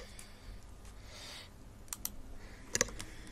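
Typing on a computer keyboard while editing a map in WorldPainter, with a handful of sharp key clicks, including a quick double tap near the end, close and quiet over faint background hiss, with no talk.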